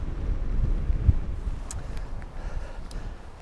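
Strong gusting wind, around 40 mph, on a links golf course buffets the microphone as a continuous low rumble and roar, with no talk.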